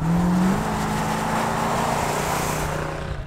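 A 1971 Plymouth GTX with a 440 V8 is driven under hard acceleration, giving a loud, steady roar that holds throughout, with no talking.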